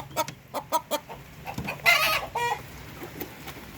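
Native darag chickens on a Philippine farm, with several close hens clucking in short rhythmic bursts and a rooster giving a brief crowing call over them, with no voices.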